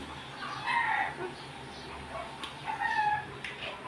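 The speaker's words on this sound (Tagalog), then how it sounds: "Manok" A rooster crows twice in the distance, each call a drawn-out rising and falling cry over steady outdoor background noise.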